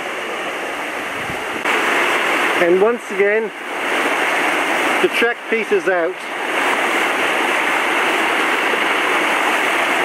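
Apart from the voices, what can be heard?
fast-moving creek water flowing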